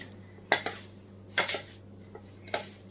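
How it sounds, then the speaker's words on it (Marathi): Sugar is stirred into karanji filling in a pan, with a spoon scraping and clinking against the metal in four separate bursts, quiet against a low background hum. "आता हे आपण मस्त सगळं मिक्स करून घेऊया"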